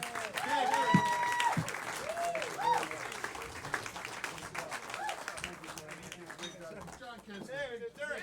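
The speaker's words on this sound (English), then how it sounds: "Please, I want you to give a big round of applause for Derrick Eason right now." Comedy club audience applauding Derrick Eason as he takes the stage, steady clapping with some cheers, while a voice talks over it.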